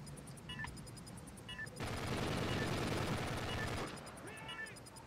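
Bursts of game gunfire in Ghost League swell into a dense, sustained volley in the middle, with faint electronic tones before and after and no talk.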